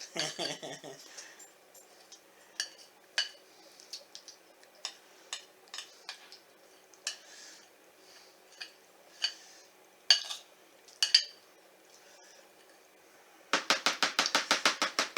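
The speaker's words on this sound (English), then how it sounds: "Make sure you get all the chocolate out of the bowl." Scraping chocolate from a mixing bowl for puppy chow: a spoon or utensil clicks and taps irregularly against the bowl, light scattered strikes with quiet gaps, ending in a quick rapid run of scrapes.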